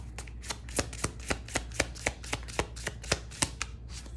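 Tarot cards being shuffled by hand, a quick regular run of crisp slapping riffles, about fifteen in four seconds, close and quiet with no talking.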